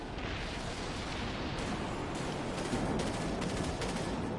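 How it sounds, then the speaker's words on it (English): Starship primary weapons firing in a video game, a continuous rumbling barrage of explosive blasts and rapid gunfire that swells slightly toward the end, dense and sustained with no voices. "Activating primary weapons"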